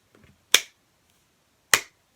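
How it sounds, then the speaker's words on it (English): Two slow, deliberate handclaps, sharp and close, spaced more than a second apart in an otherwise quiet room. "Slow clap. Slow clap."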